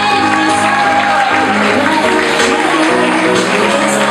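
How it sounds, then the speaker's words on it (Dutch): Audience applause and cheering for a Miss Fashion 2016 semi-final finalist, a steady dense roar of clapping mixed with crowd noise and a few shouts, loud and continuous throughout. "En ook een hartelijk applaus voor Vaya Petrides"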